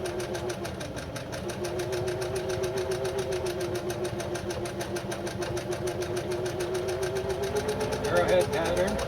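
A Singer Genie sewing machine stitches a ball pattern, a steady rapid mechanical whirring and needle clatter running continuously at close range.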